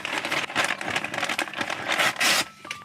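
Close, loud crinkling of plastic packaging from a LEGO set in irregular bursts as it is handled and squeezed, with no talking.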